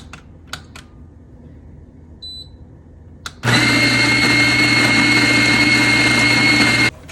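A Fellow Opus coffee grinder is switched on with a couple of clicky button presses, then grinds coffee beans in a loud, steady whirring burst lasting a few seconds before stopping abruptly.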